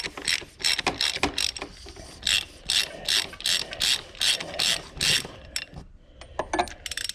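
Ratchet turning a 36 mm socket to loosen the oil filter on a 2012 Volvo S80 3.2L, a rapid series of sharp close clicking bursts in a steady rhythm.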